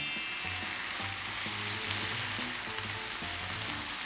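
Shrimp sizzle in butter in a pan, a dense steady frying hiss close up, with soft stirring bumps underneath and no voices.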